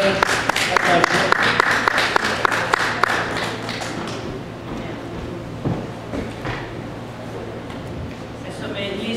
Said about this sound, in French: on peut donner une bonne main d'applaudissement à ce que Dieu fait dans la vie de la projet.